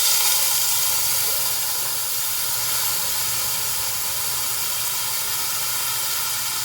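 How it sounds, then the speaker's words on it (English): Beef broth hits a hot pot roast pan for deglazing, giving a loud, steady steamy sizzle and hiss that holds evenly throughout with no talking. "So what I'm going to do now is deglaze the pan."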